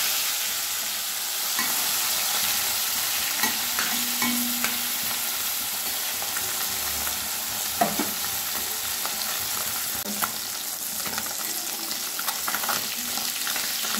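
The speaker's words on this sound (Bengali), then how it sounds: "কড়াইয়ে সর্ষের তেল গরম করে নিয়েছি। এবার মাছগুলো ভেজে নেব।" Small puti fish frying in hot mustard oil in a kadai, a loud, steady sizzle that lasts throughout, with occasional stirring clatters and brief spits.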